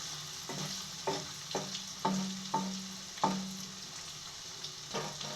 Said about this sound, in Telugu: లైట్గా అలా వేపుతూ ఉంటే చాలు ఎక్కువ డీప్ ఫ్రై చేయొద్దు